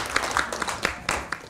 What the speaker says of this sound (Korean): 다시 한번 이 수고해 주실 여러분들 위해서 박수 한번 부탁드립니다.